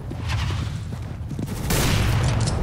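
Gunfire in Counter-Strike: Global Offensive deathmatch, a dense run of rapid shots and bursts that grows louder and heavier toward the end, with no talk over it.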